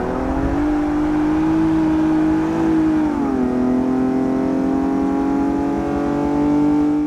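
A BMW 322 Ti Sport racing at the Hockenheim circuit: a loud, steady engine drone held at high revs, dipping briefly in pitch around a shift before settling again, close and continuous.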